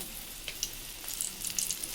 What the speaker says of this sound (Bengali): কাঁচকলাগুলো তেলে আমি ভেজে নিচ্ছি